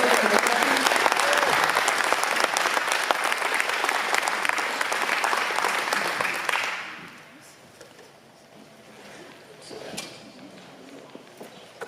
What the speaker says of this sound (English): Let's give Dana a big round of applause